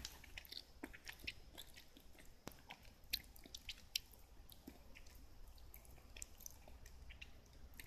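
Quiet, close biting and chewing of a soft, chewy mochi donut filled with chocolate chunks, with irregular small squishy and moist clicking mouth sounds continuing throughout.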